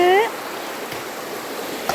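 River water rushes steadily and continuously close by in a village setting, an even wash of flowing noise with a brief tonal sound at the very start.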